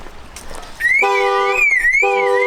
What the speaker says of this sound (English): I think I just set off that car alarm.